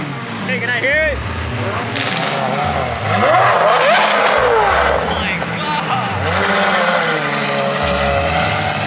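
A car engine revs loudly at a crowded outdoor car meet with burnouts and drifting, with people talking and shouting throughout amid steady background noise.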